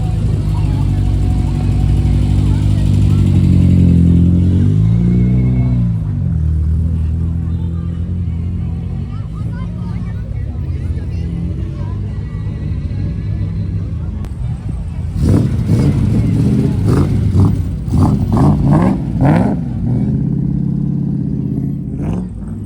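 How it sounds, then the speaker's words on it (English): A Lamborghini Murcielago at a classic and retro car show revs its engine close by in a deep, rising and falling roar, then gives sharp throttle blips later on, with people talking over the crowd noise. "And then we have the Lamborghini Murcielago."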